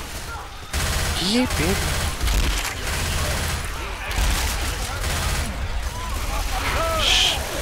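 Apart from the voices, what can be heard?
gunfire in video game Left 4 Dead 2 Resident Evil mod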